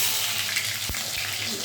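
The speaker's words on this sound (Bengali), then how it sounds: "আলুটা একটু ভেজে নিই লাল লাল করে।" Potatoes frying in a pan, a dense steady hiss of hot oil with a brief thump partway through, close by and continuous.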